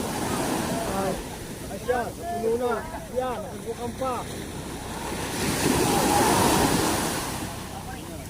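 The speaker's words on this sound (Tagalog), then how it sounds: "May alon." Ocean waves at sea near a fishing boat, a swelling rush of surf and wind that builds to a loud crest in the second half, after people talk over the water.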